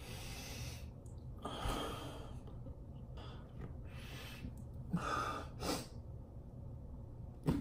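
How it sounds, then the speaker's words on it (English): Quick sniffing inhalations close to the ear as someone smells a Pacific Breeze and Coconut scented product with a piña colada character, several short nasal breaths and gasps spread over a few seconds, with no talking. "let me just take a sniff of it"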